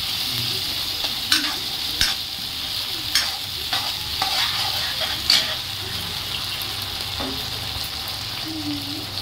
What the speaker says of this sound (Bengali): 2 চামচ সয়া সস। এটাকে ভালো করে মিশিয়ে নেব।